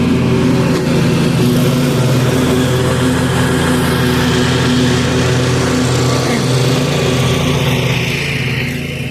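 A Husqvarna zero turn lawn mower engine runs steadily and close, a continuous low droning hum with a slight rhythmic purr throughout.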